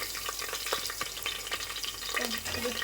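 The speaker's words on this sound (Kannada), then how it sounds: "ಚೆನ್ನಾಗಿ ಚಟಪಟ ಅಂತ ಹೇಳ್ತಾ ಇದ್ದಾಗ" Spices crackle and sizzle in hot oil while tempering for a mixed-bean sambar, a dense steady frying hiss close by, scattered with sharp pops and stirring scrapes.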